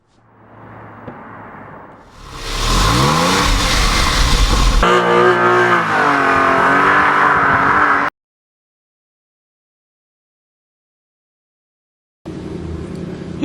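An Audi R8 V8 from 2008 runs loud and close, its engine note climbing through gear-like sweeps as it accelerates hard for several seconds, then cutting to silence before a brief return of engine noise near the end.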